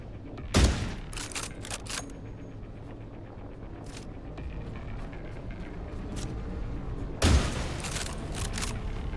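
Bolt-action rifle fire in the video game The Last Caretaker: two sharp, loud shots spaced several seconds apart over a low ambient game hum, with a few faint clicks between.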